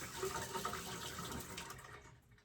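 Tap water runs into a sink while a strawberry is rinsed under it, a faint, steady splashing stream with small shifts in the flow that fades toward the end.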